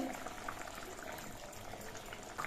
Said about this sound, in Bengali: সর্ষে বাটা দিয়ে আমি মিনিট দুয়েক সময় ফুটিয়ে নিয়েছি